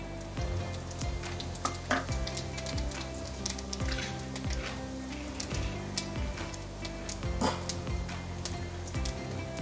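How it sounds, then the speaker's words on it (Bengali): Cumin seeds, dried red chillies and bay leaves crackle and sizzle in hot oil for a Bengali vegetarian tempering, a steady close frying hiss with scattered sharp pops and spatters throughout, no voices. "শুকনো লঙ্কা, তেজপাতা ফোড়ন দিয়ে দেবো।"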